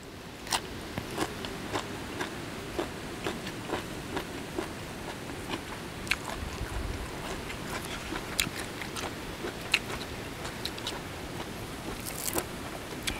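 Crunchy chewing of spicy Thai apple snail salad with bitter gourd, close to the mic with steady bites and crisp crunches repeating through a quiet background.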